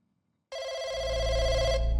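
A telephone in a Chinese funeral horror game starts ringing abruptly after silence, a loud, steady electronic ring that holds without talk.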